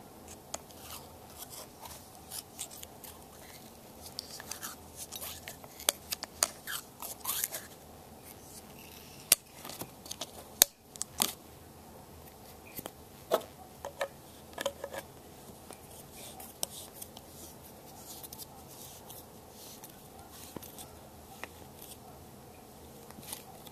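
Teflon tape for a sprinkler riser fitting being handled, with quiet crinkling, rubbing and snipping sounds in a steady scatter of close, small clicks and scrapes.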